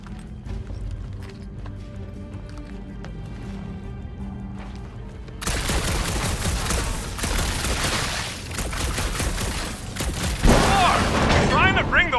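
Gunfire and explosions in Guardians of the Galaxy: a quiet stretch, then a sudden loud burst of rapid shots and blasts, with a heavy boom near the end, close and dense.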